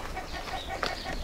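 Backyard chickens cluck softly at close range, a couple of short low clucks and one brighter squawk over a steady farmyard background.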